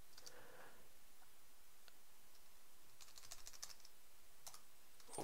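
Fingers tap a computer keyboard in quiet, irregular bursts of clicks, faint and close, with no talking.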